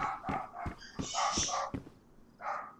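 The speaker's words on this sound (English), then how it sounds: "If you hear the dogs barking, I apologize." Several dogs bark in sharp, excited bursts, a quick run of barks followed by a brief pause and another short volley, fairly close.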